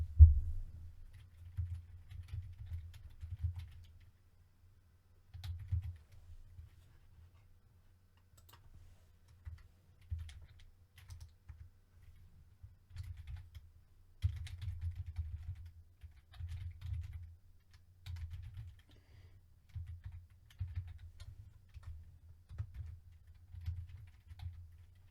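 Fingers typing on a small computer keyboard, soft muffled key taps in uneven bursts and pauses, close and quiet with no talking.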